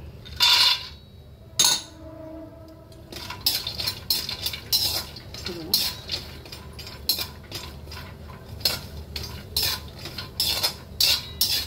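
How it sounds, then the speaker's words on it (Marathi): Cashews roast in ghee in a pan, stirred with a metal spoon that clinks and scrapes sharply in frequent bursts over a soft, low background sizzle, with no voices. "आता आपण त्याच तुपामध्ये काजू टाकूया"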